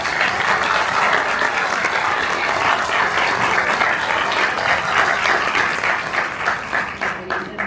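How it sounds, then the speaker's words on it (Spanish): An audience at a book presentation applauds, a dense, loud and sustained wash of many hands clapping that tapers off slightly near the end. "El aplauso."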